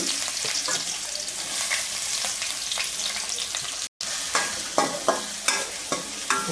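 Large onions fry in hot oil in a pan for an egg bhurji curry, with a steady close sizzle and spatula scrapes and taps from stirring that come more often toward the end.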